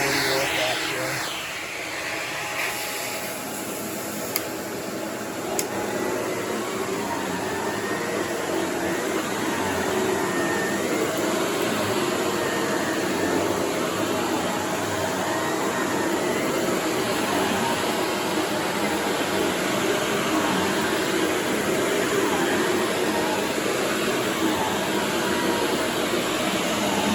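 A circa 1983 Electrolux Silverado canister vacuum cleaner runs with a loud, steady broadband whoosh and whine that fills the whole stretch without letting up.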